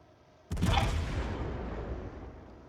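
Warship main guns fire a single heavy salvo in a naval combat game, one sharp loud blast followed by a long rolling rumble that slowly fades.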